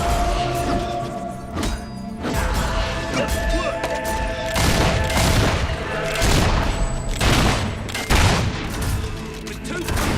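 Gunfire in the video game Fable 3 on Xbox 360 comes as a dense, continuous barrage of loud shots and booming impacts, layered with battle noise and shouted voices.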